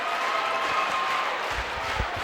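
Geneseo student cheering section clapping at a high school boys basketball game against Rock Island, a steady wash of crowd applause filling a gym, with a few louder low thumps near the end.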